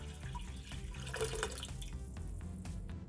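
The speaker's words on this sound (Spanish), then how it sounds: "simplemente vamos a poner agua, la suficiente únicamente para que se cubran" Tap water runs into a pot of chicken gizzards with a steady splashing gurgle, sounding close and moderately loud, with a few bubbly surges and drips near the end and no one speaking.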